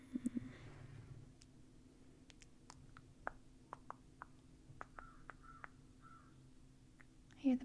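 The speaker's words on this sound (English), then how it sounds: "I hear the birds outside and I see a little one." Birds call outdoors, sounding as a scattering of short, faint chirps and caws spread through the stretch, distant behind a quiet room with a low steady hum.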